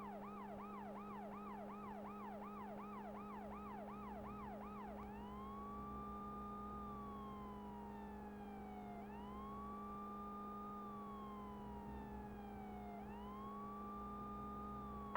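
Ambulance and police sirens from a police-chase video game blare continuously, first a fast rapid wail that switches to a slower rising-and-falling wail, over a steady engine drone with no talk.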